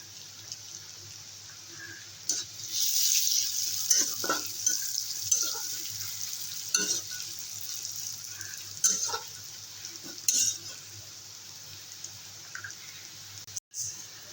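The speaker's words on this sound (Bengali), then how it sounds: "রসুন পেঁয়াজ ভাজা হয়ে গেছে" Soft, steady sizzle of garlic and onion frying in a pan, with occasional stirring clicks and scrapes, close and fairly quiet, no speech.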